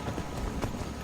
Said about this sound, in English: I think it's just a horse, though.